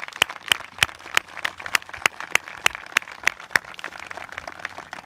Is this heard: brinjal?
no